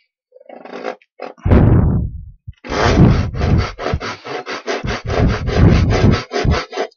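Handsaw cutting through wood for a handmade wooden toy car, a loud close rhythm of rapid back-and-forth rasping strokes after a few lighter starting scrapes.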